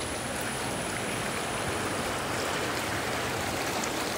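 A countryside river in the rural Philippines rushes steadily, a dense continuous wash of flowing water heard close and loud without pause.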